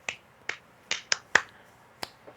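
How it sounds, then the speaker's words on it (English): Hand claps repeated by one person, about seven sharp close strikes in an uneven rhythm, clear and alone with no talk. "I do remember that clap."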